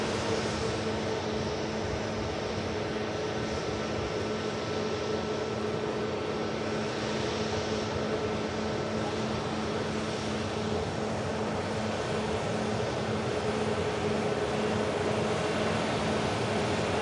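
A Cessna 680 business jet on final approach from Amsterdam gives a continuous, moderately quiet engine drone with a faint steady whine, unchanging in level and unaccompanied by talk.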